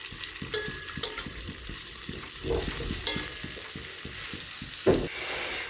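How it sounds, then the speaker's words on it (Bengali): Onions frying in a pan, a close steady sizzle broken by rhythmic scraping strokes of a spatula stirring them, with occasional metallic taps against the pan. "পেঁয়াজগুলোকে একটু ফ্রাই করে নেব।"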